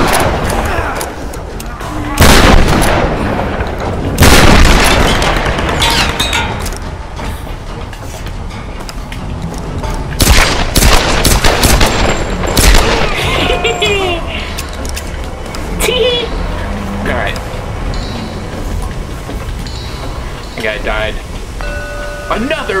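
Gunfire in the video game Tomb Raider: Definitive Edition, with loud sharp shots and bursts scattered across a busy game soundscape of clanks and rumble, and a voice talking over parts of it.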